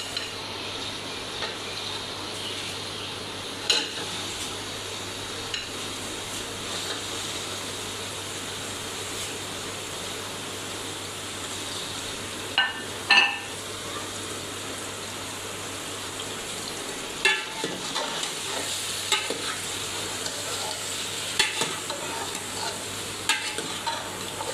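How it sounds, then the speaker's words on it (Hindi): Mutton pieces frying in a pot with whole spices such as black cardamom over medium heat, a steady soft sizzle running throughout with a few scattered clinks and stirring knocks. "हम इसको ऐसे ही फ्राई करेंगे"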